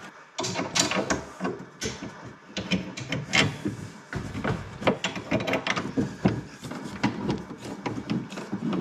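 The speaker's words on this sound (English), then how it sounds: "Now I can take off this wood block here." A wooden block is pulled free while a fuel tank is installed under a van, giving close, dense scraping, knocking and rubbing of wood against metal in rapid irregular bursts.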